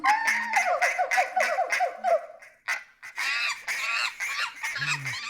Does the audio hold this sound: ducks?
yes